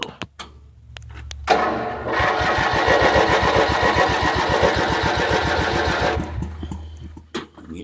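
A Briggs & Stratton generator engine, left idle for almost a year, cranks with a few pulls and then catches. It settles into a loud, steady, rapid putter for several seconds before it cuts back down.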